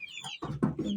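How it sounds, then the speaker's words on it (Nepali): Soft clucking and peeping from young chickens newly placed in a coop, a brief close cluster of calls. "अनि चल्लाहरू चाहिँ भर्खर हाल्नु भएको रहेछ।"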